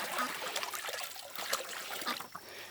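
Water poured out of a bin to fill a container for ducks makes a faint, steady trickle and splash outdoors, running unevenly for a few seconds.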